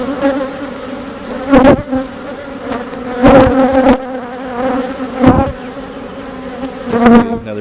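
Honeybees buzzing loudly and close during a hive inspection, a steady droning hum with repeated surges as bees fly past.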